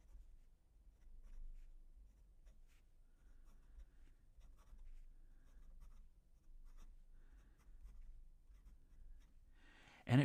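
A Jinhao X35 fountain pen with a medium standard number 6 steel nib writes steadily across paper, giving a faint, close, continuous scratchy glide with small stroke ticks, alone over a low background hum.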